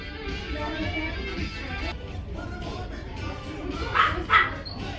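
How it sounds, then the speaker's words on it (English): Dog barking heard in a HomeGoods store, two short sharp barks near the end over steady indoor background noise and faint chatter. "Dogs in the corner."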